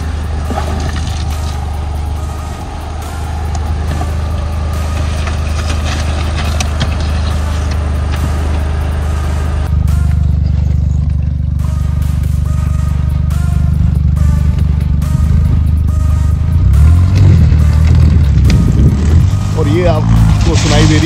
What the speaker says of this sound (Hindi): गाड़ी की जो आवाज है ना वो बड़ी जबरदस्त है यार, वेल्वेट्रॉनिक एग्जॉस्ट के साथ अल्टीमेट